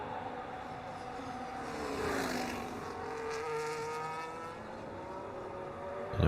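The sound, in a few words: race cars on a flying lap in a racing video game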